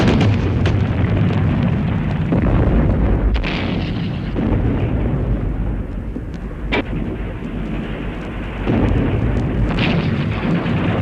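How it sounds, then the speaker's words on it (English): Heavy World War I artillery bombardment aimed at breaking through barbed wire before an infantry attack, heard as a continuous loud low rumble with repeated booming blasts rolling through the whole stretch. "we opened up with a terrific bombardment to try and break through the wire"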